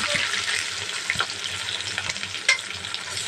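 Chopped onions and green chillies with a little salt fry in a pan for a potato and egg curry, a dense, continuous sizzle with a few stirring scrapes and clinks close by.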